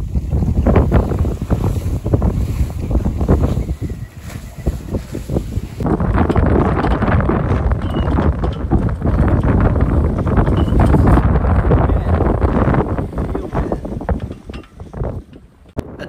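Strong wind roars across the microphone aboard a sailboat running under a reefed main on a beam reach with sheet-to-tiller self-steering, with water rushing along the hull; the gusting noise is loud and continuous, easing slightly near the end.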